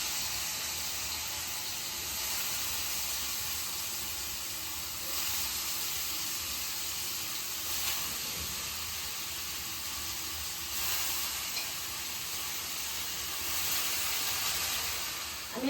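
Potatoes frying in hot oil in a wok, giving a steady, even sizzle and hiss that continues without a break, with no one talking over it.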